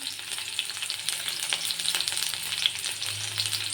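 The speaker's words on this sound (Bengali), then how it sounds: "তেলটা গরম হয়ে গেছে একটি তেজপাতা মিডিল দিকে টুকরো করে দিয়েছি দিয়ে দিলাম কিছুটা রসুন কুচি আর দিয়ে দিলাম দুটা পেঁয়াজ কুচি" A bay leaf, chopped garlic and chopped onion sputter in hot oil, a bright crackling sizzle with scattered pops over the whole short stretch, close and moderately loud with no talking.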